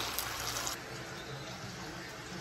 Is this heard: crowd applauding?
no